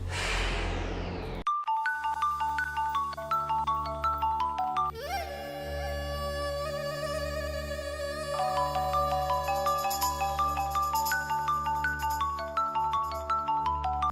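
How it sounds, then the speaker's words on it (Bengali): A mobile phone plays a melodic electronic ringtone indoors, looping a repeating tune of bright notes for many seconds, fairly clear and alone without speech. "ফোনটা ধরছিস না কেন?"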